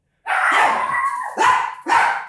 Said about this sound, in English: We had some dogs barking going on where we're recording right now